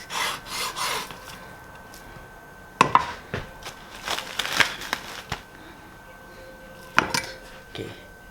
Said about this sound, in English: Okay, so you have to trim off the fat.